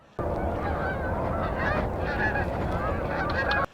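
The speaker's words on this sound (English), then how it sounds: "usually that's a lot of waterfowl, and they're starting to gather in places like National Wildlife Refuges" A dense chorus of geese and other waterfowl honks continuously at Montezuma National Wildlife Refuge in late autumn, many overlapping calls from a large gathered flock, loud and steady, with no voices.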